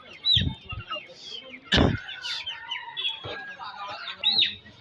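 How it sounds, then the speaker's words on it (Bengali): Chickens at a village poultry market in Natore, Bangladesh, including local, foreign and layer breeds, give scattered clucks and short calls, with brief bursts of nearby voices and handling noise between them. "দেশি বিদেশি সব ধরনের মুরগি পাওয়া যায়"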